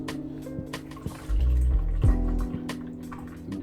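A short burst of grape juice pouring onto grapes, about a second long, rises over a steady background hum, followed by faint drips.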